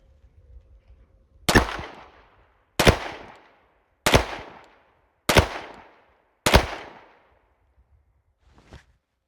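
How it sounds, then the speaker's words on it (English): Five evenly spaced, sharp, loud pistol shots from an Iver Johnson 1911A1 fired at 15 yards at a medium tempo, each a close crack with a short decaying echo, followed by a faint click. "let's try 5 shots from 15 yards at a medium shot tempo"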